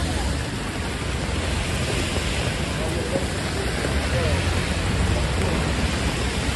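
Heavy rain pours down over Tribeca in New York City with wind at the back, a dense, unbroken hiss that stays loud and steady throughout.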